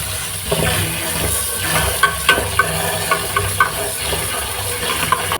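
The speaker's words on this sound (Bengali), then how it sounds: "পাতাগুলোকে পরিষ্কার করে ধুয়ে নেব।" Leafy pumpkin greens are swished and rinsed in water, a steady splashing wash with repeated sharp little clatters and splashes as the leaves are handled.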